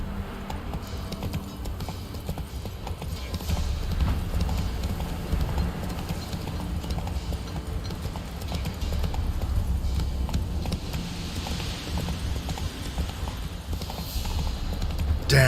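Roach, a horse in The Witcher 3, clip-clops along steadily, its hooves thudding in a continuous rhythm under a dense, loud game soundscape, with no speech.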